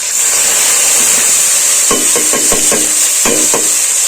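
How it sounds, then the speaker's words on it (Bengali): Spices with garlic, ginger and onion paste fry in a pan with a loud, continuous sizzle, while a spoon scrapes and stirs in short, irregular knocks partway through. "এটাকে আমি খুব ভালোভাবেই নাড়াচাড়া করে ভেজে নেবো"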